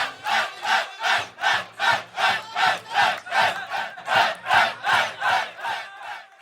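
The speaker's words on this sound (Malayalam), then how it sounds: "ഇരുകൂട്ടരും കൊമ്പ് കോർത്തതോടെ കാണികൾ ആരവത്തിലായി" Spectators at the KMCC Saudi Super Cup football final in Riyadh's Dirab Durrat Al Malaab stadium chant in rhythmic waves, about a dozen even swells of crowd voices rising and falling in a steady beat.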